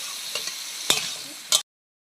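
A spoon stirs vegetables in a frying pan, giving a soft steady sizzle broken by a few sharp scrapes and clanks before cutting off abruptly.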